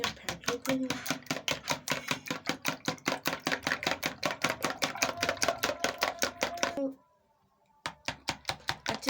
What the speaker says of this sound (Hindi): ये मैंने दो अंडे लिए हैं जिनको मैंने अच्छे तरीके से फेंट लेते हैं।